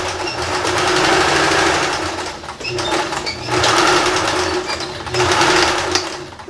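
A sewing machine runs in three bursts as it stitches a seam on recycled denim jeans, with a loud, rapid mechanical clatter close by and brief pauses between runs.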